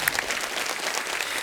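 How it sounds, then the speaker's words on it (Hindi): Studio audience applause on a Hindi TV comedy talk show stage, a steady dense wash of clapping held at even loudness throughout, with no voices on top. "तालियां जोरदार होनी चाहिए."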